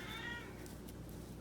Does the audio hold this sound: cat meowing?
yes